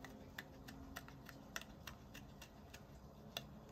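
Small scissors snip out a paper image for a floral card, making a steady run of soft, close, crisp clicks at an even rhythm, quiet and with no talking.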